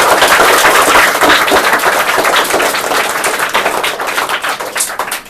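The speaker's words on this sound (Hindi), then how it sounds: "तालियों से उनका स्वागत करें।" Audience at a children's motivational seminar clapping for parents and teachers: a dense, loud, sustained burst of applause from many hands that gradually thins and fades toward the end, with no talking.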